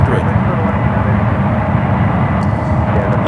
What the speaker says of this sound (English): Flight number is 31 on this 5-year-old A350-900.